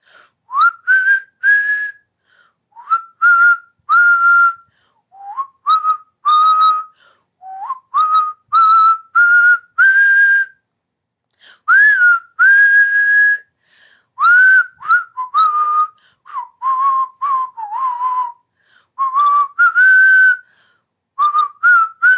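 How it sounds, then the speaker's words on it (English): A person whistles a melodic tune solo, clear and close, in short phrases of sustained and sliding notes separated by brief pauses for breath. "here is the tune she would like me to whistle"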